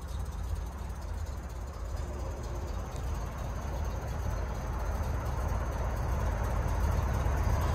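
A 1971 Corvette V8 with an aggressive cam idles steadily with a deep, continuous low rumble, moderately loud and close, with no talking.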